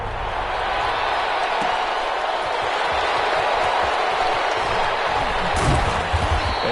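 A stadium crowd in a Madden NFL video game roars steadily for a Chicago Bears versus Minnesota Vikings matchup, a dense, continuous wash of cheering with no clear pauses.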